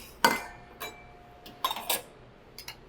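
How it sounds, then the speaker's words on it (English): Dishes moved on a table while apple crisp is being made, a few sharp clinks and clatters of plates and utensils at uneven intervals, close by with quiet gaps between them. "I'll move these dishes over here."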